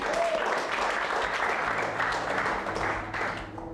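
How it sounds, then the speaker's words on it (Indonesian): Applause from an audience at a stand-up comedy show: loud, dense, continuous clapping that holds steady throughout and eases off slightly at the end. "tepuk tangan dong buat Jimmy."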